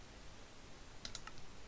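Quick typing on a computer keyboard while searching items in the Minecraft modpack Sky Factory 4: a short cluster of about five faint, crisp key clicks over low background hiss.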